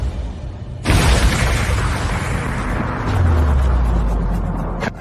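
A recreated bomb blast using the same box and chemicals as in a real bombing goes off with a sudden loud boom, followed by a sustained roaring rumble and a deep low-pitched swell that lingers for several seconds.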